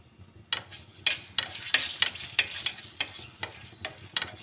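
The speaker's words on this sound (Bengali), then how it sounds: "দিয়ে দিচ্ছি তেল, মরিচ ভাজবো, শুকনো মরিচ" Dried red chillies frying in oil, with a soft sizzle under a rhythmic series of about a dozen crisp scraping strokes as they are stirred in the pan, close and alone.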